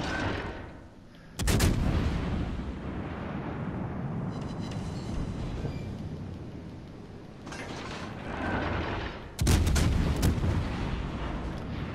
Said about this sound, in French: C'est le canon qui tire haut.